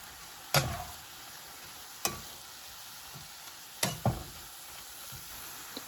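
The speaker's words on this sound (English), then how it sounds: "It was just 1 jalapeno, the green onion. I'm going to stir it around." Jalapeno and green onion sizzling in a pan, with a soft continuous fry hiss broken by four distinct scraping strokes as the mixture is stirred.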